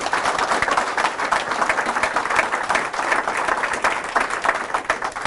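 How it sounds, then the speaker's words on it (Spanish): Sustained applause from a church congregation during a Spanish-language Catholic sermon, a dense, even wash of many hands clapping with no voices over it. "Fuertes aplausos a Jesús."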